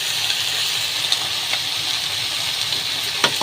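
Eggs fry in a pan for a noodle dish with prawns, soya chunks, cauliflower, carrots and potatoes, giving a steady, close, unbroken sizzle with faint hiss and a few small pops, and no one speaking.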